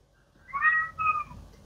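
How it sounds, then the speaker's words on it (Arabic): Two short, quiet cat meows in quick succession, rising and falling tones heard faintly in the background of a phone call alongside street noise, with no talk during the calls. "ايه الصوت اللي حواليك ده؟ قطط دي ولا ايه ده؟"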